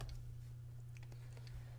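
Numbers being tapped into a calculator while working a maths problem, faint irregular clicks over a steady low electrical hum, no talking.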